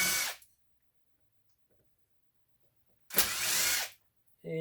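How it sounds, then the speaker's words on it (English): A power driver whirs twice in short bursts to back screws out of a ceiling fan, loud and close, separated by quiet. "You can take all these screws out."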